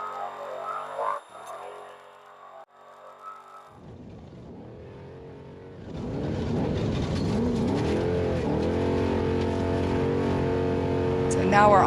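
Onboard engine of an off-road race vehicle at the Parker Dam 500, a steady loud drone that swells and holds, with driver and co-driver talking over it.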